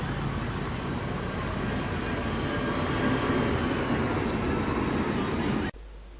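Trains running through the Redfern Flying Junction in Sydney, a loud continuous rumble of rolling wheels with high-pitched wheel squeal held throughout, cutting off abruptly near the end.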